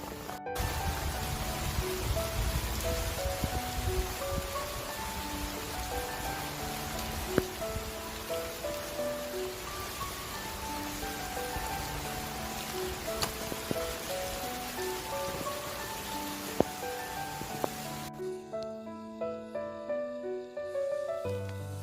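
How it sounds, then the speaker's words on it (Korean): Rain begins to fall outdoors beside a waterway in Yongin after distant thunder, a soft, even patter that continues throughout and changes near the end, with no voices. "천둥 번개가 치고 이제 막 비가 내리기 시작했습니다"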